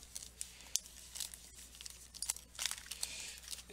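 Panini Silver trading card packs are shuffled by hand, giving a run of crisp foil crinkles and rustling flicks that rise and fall irregularly at close range, with no talking.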